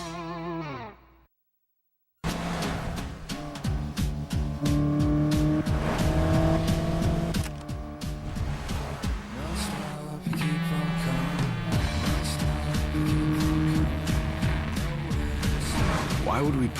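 A Mitsubishi Lancer with sport-tuned suspension and magnesium paddle shifters runs hard laps, its engine roaring loud and continuous with tyres squealing. It starts after a brief silence, and a voice speaks over the driving.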